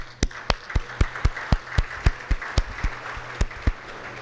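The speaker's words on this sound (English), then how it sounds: "Could you please stand up so we can all applaud you?" A small audience gives a scattered round of applause for a newly selected secretary, with distinct sharp individual claps at an uneven, roughly regular pace, close and fairly loud, over a faint background hum.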